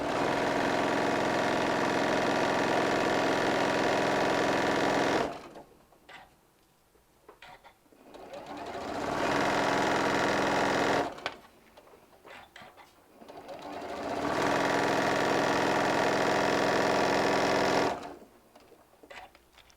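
A sewing machine stitching fabric strips together runs in three long, loud, steady whirring bursts, with short quieter pauses of fabric handling between them.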